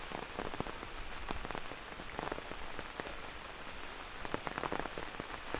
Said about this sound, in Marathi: तर आता पण पाऊस पडतो रिमझिम.